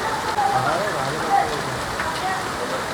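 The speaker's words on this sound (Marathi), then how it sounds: "फर्स्ट टाइम आमच्या इथे गारे पडत आहेत." Hail falling steadily outdoors during a first local hailstorm, a dense, continuous patter of hard pellets striking surfaces nearby, loud and even throughout with no clear pauses.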